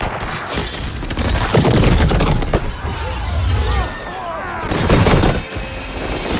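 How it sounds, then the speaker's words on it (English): Massive rooftop explosions from a film scene about Batman, with several loud crashing, shattering blasts rolling over one another across the whole stretch, dense and continuous with brief lulls between bursts. "the planting of all those explosives on that roof and destroying it, causing these massive explosions"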